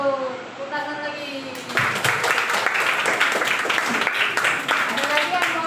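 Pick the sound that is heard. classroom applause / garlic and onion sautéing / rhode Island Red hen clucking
classroom applause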